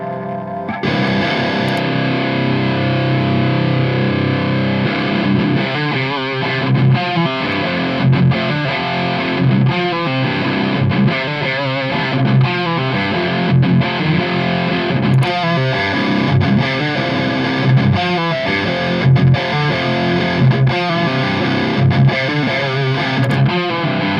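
Distorted electric guitar recorded with Shure 57 and Slate ML-2 microphones, heard as a steady, dense riff of chugging chords and fast picked notes that plays loud and continuous with no talking.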